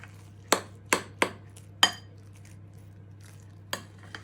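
Easy-mix Mexican-style bean bake being scraped and slopped into a tray, with four sharp utensil knocks close together near the start and one more near the end, over a low steady hum.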